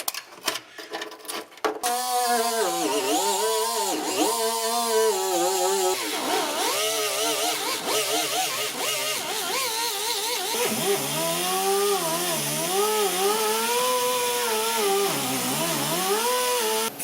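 A power tool grinds away seam sealer on the body of a 1976 Mazda RX-5 Cosmo. It is a steady, close motor whine that rises and dips in pitch as the tool is loaded and eased off, following a brief clatter at the start.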